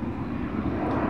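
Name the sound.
Atlas Air Boeing 777 jet landing at O'Hare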